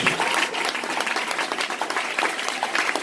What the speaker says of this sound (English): Somebody clap your hands like you just called.